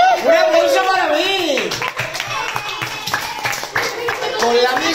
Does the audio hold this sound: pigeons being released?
no